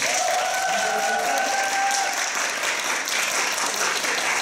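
Sustained applause from a concert audience at a choir-studio anniversary show, steady and dense throughout, with a faint sustained tone and a few voices underneath.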